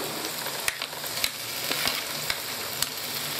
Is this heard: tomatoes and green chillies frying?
yes